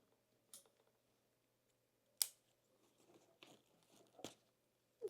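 Scissors snipping something off a backpack, a few sharp, isolated cuts and crisp clicks separated by soft handling rustle, quiet and close with no talking.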